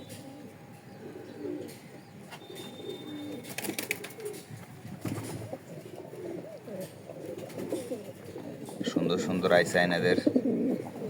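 Pigeons coo softly in a loft, their low murmuring calls running under someone talking nearby, with a burst of wing flapping and louder cooing near the end.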